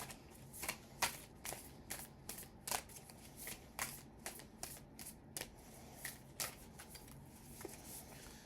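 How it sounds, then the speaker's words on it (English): Healing Spirit oracle cards by Gordon Smith being shuffled by hand, a steady run of crisp riffling flicks and soft slaps repeating roughly every half second, close and clear with no talking. "And Lord Jesus, pick the perfect card for us."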